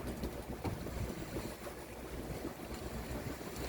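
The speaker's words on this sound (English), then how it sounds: "We've got a southwest wind blowing, so we've just got the headsail up." Sailboat running under headsail alone in a southwest wind, heard as a faint, continuous rush of wind and water along the hull with soft wave wash and no voices.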